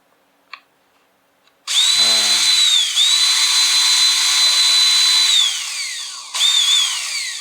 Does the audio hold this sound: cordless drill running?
yes